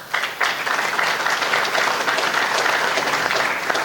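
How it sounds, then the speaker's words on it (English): Steady, full applause from an audience at a Medal of Honor ceremony, starting abruptly and holding at an even, loud level throughout. "I like those applause"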